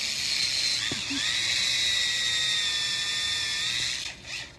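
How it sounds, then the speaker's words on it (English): A power drill boring a pilot hole whines at a steady high pitch, running continuously for a few seconds before winding down, with a faint click near the start. "I'm drilling a pilot hole below the depth of what I drilled the hole"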